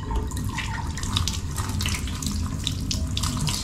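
Clear water streams and splashes steadily like a running tap, a continuous close bubbling flow with no voices over it.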